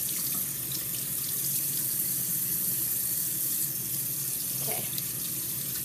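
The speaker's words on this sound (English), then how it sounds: "I'm gonna wash off my fingernail" Tap water runs steadily into a sink as a fingernail is rinsed, a continuous close splashing hiss with no talking over it.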